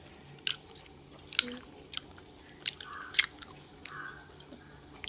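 Someone bites into and chews a sour orange, with several close, crisp, wet crunches and squishy mouth sounds spaced irregularly, under quiet background noise.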